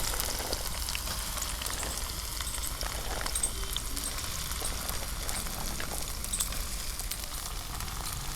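Okra and potatoes frying with browned garlic in a pan over a traditional clay stove: a steady, close crackling sizzle with scattered small pops, even and continuous throughout.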